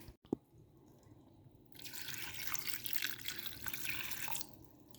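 Water is poured onto grain to soak it for a few seconds after a small drip, a soft splashing flow that then stops.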